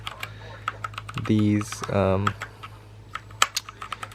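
Keys clack on a 65% gaming keyboard, a series of crisp, close taps scattered around spoken words from a nearby voice.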